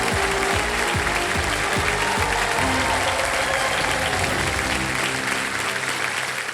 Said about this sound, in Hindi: सुनील ग्रोवर जी के लिए एक बार फिर जोरदार तालियां बजाएं मेरे